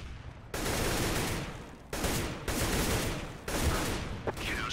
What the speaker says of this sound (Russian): На шифте по Паше пытаются стрелять.